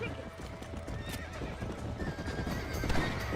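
Horse galloping in Red Dead Redemption: rapid, close hoofbeats with a clear whinny, over ambient game sound.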